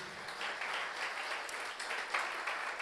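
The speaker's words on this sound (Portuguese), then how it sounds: "Você aplaude isso para Jesus" Congregation at a Portuguese-language church service applauding for Jesus, a steady, dense wash of many hands clapping at moderate distance, continuous for a few seconds with no talking over it.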